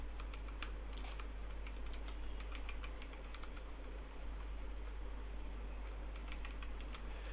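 Typing on a computer keyboard while writing HTML code: a faint, steady patter of key clicks under a low constant hum, with no talk.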